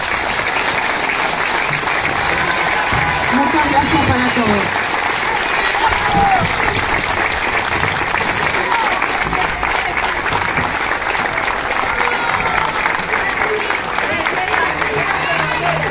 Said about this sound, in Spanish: le damos un caluroso aplauso a este nuevo equipo directivo